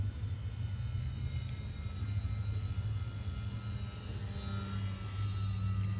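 E-Flite 850mm Pitts S-1S RC model airplane flying at a distance, a faint steady electric motor drone with a low hum, heard alone without talk.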